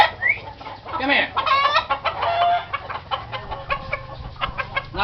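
Brooding hens sitting on eggs inside a cage give a steady stream of close, loud clucks and throaty squawks, with varied pitched calls and no talking.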